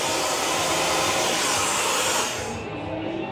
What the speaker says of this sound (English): Oh, my gosh, that was so loud. It's like it was blowing air at us.